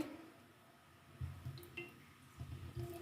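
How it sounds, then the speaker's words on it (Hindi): Cooking oil is poured into a pot for kadhi pakora, making faint, soft dripping and gentle liquid splashes in a few low, muffled bursts close by. "अब इसमें हम कुकिंग ऑयल डालेंगे।"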